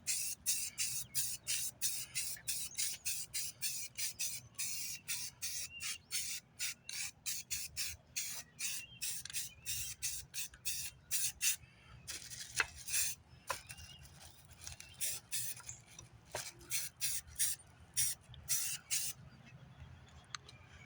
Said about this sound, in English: here I'm going to start priming it